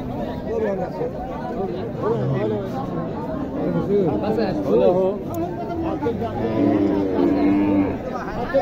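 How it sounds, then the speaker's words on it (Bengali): Cattle low and moo repeatedly at a crowded cow market in Mahadevpur, Naogaon, with several beef cattle calling over a steady babble of nearby voices and chatter. "এগুলো হচ্ছে গোস্তের গরু, মাংসের গরু।"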